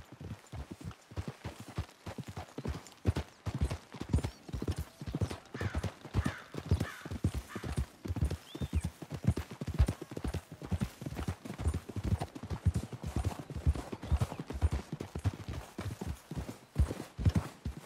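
Steady hoofbeats of horses trotting in Red Dead Redemption 2, a continuous rhythmic clip-clop that stays close and fairly loud throughout, with no talking.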